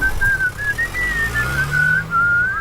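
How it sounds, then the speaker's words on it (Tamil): A person whistles a wavering, continuous tune of a few seconds, close and fairly loud, over a low background rumble with no talking. "என்னடா விசில் அடிச்சுட்டா"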